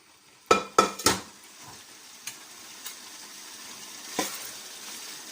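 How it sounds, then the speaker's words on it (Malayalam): Cooked chicken, prepared for zurbiyan, is scooped from a pressure cooker into a large pot, giving three quick metallic clanks close together, then a few lighter scrapes and taps with quiet gaps between them. "ഞാനിതൊരു വലിയ പാത്രത്തേക്ക് മാറ്റിയിട്ടുണ്ട്."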